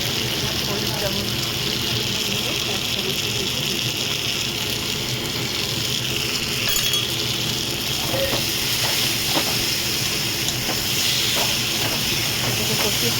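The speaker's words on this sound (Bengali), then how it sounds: "এটাকে কষিয়ে ফিরছি।" Spices for a prawn and potato curry fry in hot oil with a steady, broad hissing sizzle that goes on throughout, with a few faint stirring clicks.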